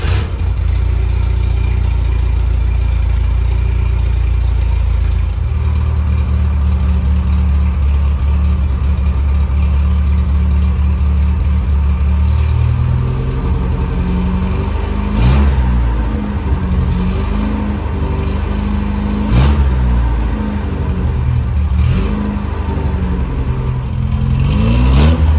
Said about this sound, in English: So let's fire it up, let you listen to it.